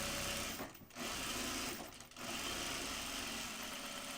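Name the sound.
sewing machine stitching a bag flap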